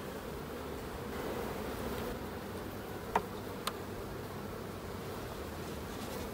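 Steady low hum of many honeybees buzzing close by on a hive frame, continuous throughout, with a couple of brief sharp clicks partway.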